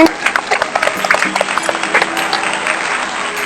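An audience claps for a child who won first place in a drawing competition at a free art school, quick bright clapping that starts at once and continues steadily, close by, with no talk over it.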